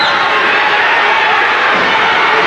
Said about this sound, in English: The crowd here, many of them chanting OU.